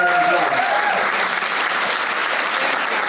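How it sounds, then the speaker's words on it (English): A conference audience breaks into loud, sustained applause at a women in business event, a dense wash of many hands clapping that stays steady and slowly thins toward the end. "And everyone give Tricia a round of applause"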